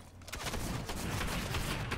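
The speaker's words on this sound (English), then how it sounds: "Pull out the drum gun" Gunfire from a drum gun in a video game, a dense burst of rapid shots firing steadily for about two seconds at close range, with no voices over it.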